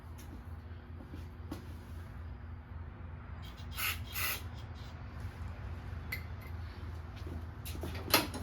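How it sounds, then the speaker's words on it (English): An aerosol can of carb cleaner gives several short, sharp hissing bursts into a lawn mower, separated by pauses, over a low background rumble. "See about maybe spraying some carb cleaner in there."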